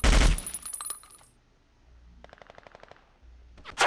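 Battlefield Vietnam gunfire: a loud blast opens, then quick rattling automatic bursts, a quieter pause, another rapid volley, and a final sharp shot.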